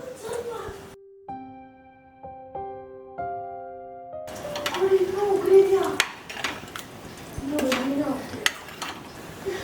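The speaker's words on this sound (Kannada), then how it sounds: "ಈ ತರಕಾರಿನೆಲ್ಲ ಫ್ರೈ ಮಾಡಿದ್ದೀನಲ್ಲ ಇದನ್ನು ಇದಕ್ಕೆ ಹಾಕ್ಬಿಟ್ಟು ಒಂದೇ ಸರಿ ಬೇಯಿಸ್ಬಿಡ್ತೀನಿ" Fried vegetables get tipped into a simmering gobi masala gravy and stirred in a pot, with metallic clatter of a spoon against the vessel and faint sizzling, after a short musical jingle, while voices talk over it.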